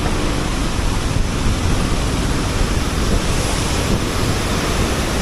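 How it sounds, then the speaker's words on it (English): A waterfall in rugged waterfall country rushes with a loud, steady broadband roar, heard continuously and close, mixed with some wind buffeting, with no voices. "Wow, this is something, eh? Waterfall country."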